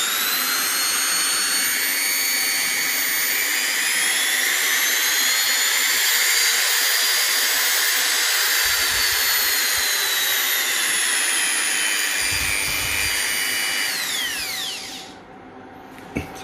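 An Ozito FSR3000 electric file sander runs steadily and loudly on its own, its high whining motor tone shifting in pitch as the speed is adjusted, then winding down near the end.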